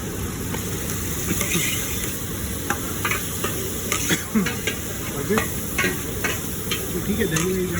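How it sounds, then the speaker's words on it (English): A batch of yogurt, about a litre, being whisked in a bowl: a busy, scraping, stirring rhythm with irregular clicks, fairly close and steady throughout, with faint background noise and no clear talk. "Just give it a whisk."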